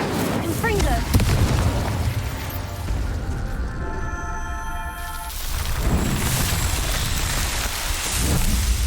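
A Confringo fire spell explodes in Hogwarts Legacy during a spell-casting fight, with heavy booming bursts and rumbling crackle at the start and end and a tonal magical hum between them, with voices or game sounds mixed in.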